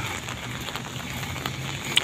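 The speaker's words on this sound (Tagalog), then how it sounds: "It's raining." Steady rain patters down in a continuous wash of hiss and soft drops, with no voices.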